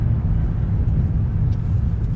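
A single-turbo Infiniti G35 with its blow-off valve unplugged, a loud continuous low engine drone heard from inside the car, steady with slight fluctuations and no talking.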